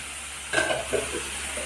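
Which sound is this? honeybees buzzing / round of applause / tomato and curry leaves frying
tomato and curry leaves frying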